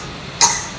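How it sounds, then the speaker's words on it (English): A single short, light surface cough from a person close by, a quick throaty burst in an otherwise quiet room. "The second cough, it's a surface cough, and it's probably the funniest one."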